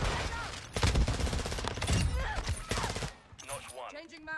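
Rapid, loud bursts of gunfire from a shooter video game rattle almost continuously, with short pauses between volleys and a voice now and then.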